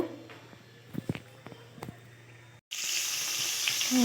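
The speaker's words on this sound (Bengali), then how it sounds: "তেলটা গরম হয়ে গেছে, এর মধ্যে পনিরগুলো আমি একে একে দিয়ে ভেজে নেব।" Paneer pieces dropped into hot oil in a wok. Faint clicks and taps come first, then a sudden, steady, bright sizzle starts and carries on to the end.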